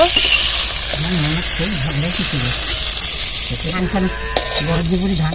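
Eggplant frying in oil in a pan, a loud steady sizzle throughout while a person talks over it.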